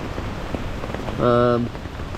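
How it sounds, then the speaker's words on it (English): Wind and rain beat on a tarp at a night wild camp on the South Downs, making a steady close hiss throughout, with a brief tonal whine rising midway. "wind and the rain have been pretty incessant"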